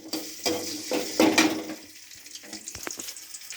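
Ginger and garlic drop into hot oil in a wok, giving bursts of crackling sizzle with clattering stirring and scraping, then a softer continuing fry with a few sharp taps.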